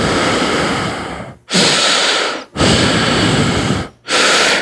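A voice imitates heavy, nervous breathing, loud and close, in three long rasping breaths separated by short pauses, with no other sound.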